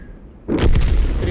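A French F28 105 leFH18B2 artillery gun fires once in World of Tanks, a sudden loud boom that cuts into quiet and then rolls on as a sustained rumble.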